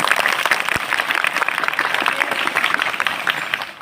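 An audience applauds loudly at a school anti-drug pledge event, dense clapping that holds steady for a few seconds and then begins to thin out near the end.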